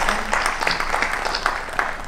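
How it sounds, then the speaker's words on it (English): Applause from an audience honouring guests at the Sikhlens India film festival in Chandigarh, a steady wash of many hands clapping throughout, fairly close and even, with a faint voice briefly underneath. "Big round of applause."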